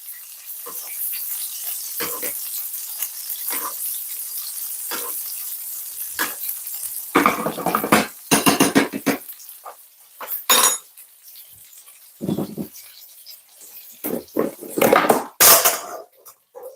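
Butter spooned over fish frying in a pan: a steady low sizzle with repeated clinks and scrapes of a metal spoon against the pan, growing busier and louder toward the end.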